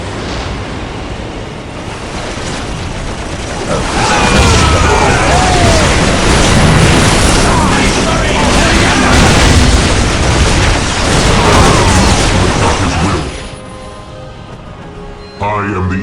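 Whirlwind artillery tank barrages in the Warhammer 40k game Dawn of War thunder as dense, continuous rumbling explosions that swell loud in the middle and fade near the end, with battle noise layered beneath.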